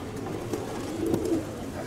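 Pigeons, diving or tumbler breed, coo softly at a loft among wolves in Greece, with low murmuring calls running through steady outdoor background noise.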